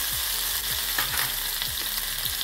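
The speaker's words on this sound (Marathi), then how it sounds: "तेल तापलं आहे, थोडं अद्रक मिरची टाकायची" Ginger and green chillies fry in hot oil for besan vadi, making a loud, steady sizzle close up, with soft repeated scraping strokes underneath.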